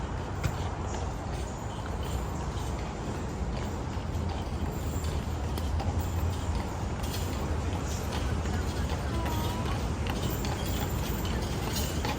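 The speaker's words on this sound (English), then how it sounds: "the horse that hauls us around" Horse hooves clip-clopping on a street while pulling a private tour carriage through Savannah, Georgia, a steady rhythmic clatter under constant road and traffic noise throughout.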